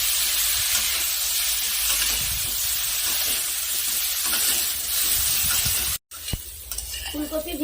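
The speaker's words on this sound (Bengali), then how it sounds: "এখন এই তেলে আরেকটু সরিষার তেল দিয়ে ফুলকপি ভেজে নেব।" Cauliflower fries in hot mustard oil in a pan, a loud, continuous close-up sizzle and hiss with occasional stirring scrapes.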